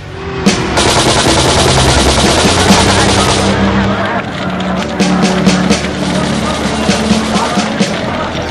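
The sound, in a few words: gunfire shots in archival footage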